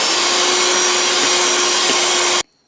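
An electric mixer beating cake batter with condensed milk, a loud steady whirring hum close up that cuts off abruptly near the end, leaving silence.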